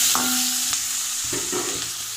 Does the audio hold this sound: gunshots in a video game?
no